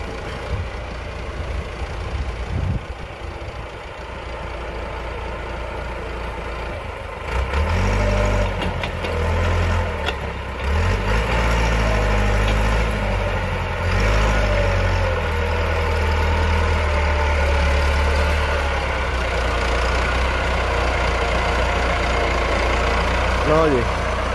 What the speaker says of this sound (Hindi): दूसरी पुली ते भी आ गया ट्रैक्टर